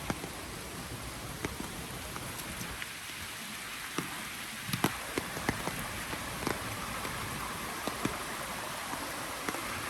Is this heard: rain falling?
yes